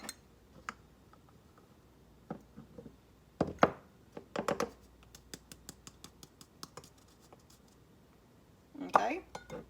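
Homemade baking powder is mixed in a small jar, giving sparse clinks and taps of a utensil against glass, a quick cluster of scraping knocks, then a final louder rattle, close and quiet with pauses between.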